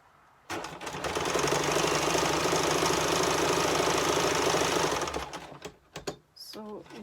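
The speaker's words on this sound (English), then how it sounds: "So you just sew your first pieces on" A sewing machine stitches quilt-as-you-go fabric pieces, running steadily with a fast, close mechanical whirr and needle patter for about four and a half seconds, then stopping, after which a voice briefly speaks.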